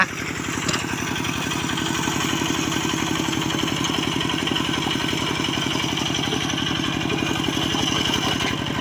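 A single-cylinder walking tractor engine chugs at a steady, rapid putter in a rice paddy, close and loud, running continuously with a rough clattering edge.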